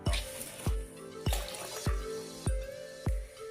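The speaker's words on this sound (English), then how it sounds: "Pour the water out." Water glugs out of a pot in a steady rhythm of repeated gulping splashes, close up with no voices.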